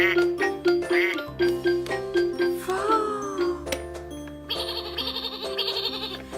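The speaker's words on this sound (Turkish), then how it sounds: "Evet o bir kuzu sesi me diyor." A bright, electronic toy tune with repeating notes plays from a musical animal-sounds toy, and a synthetic lamb bleat wavers through the middle, loud and close.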